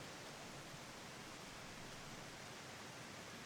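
A waterfall in the survival game Green Hell gives off a soft, even rush of falling water that stays unbroken and fairly faint from start to finish.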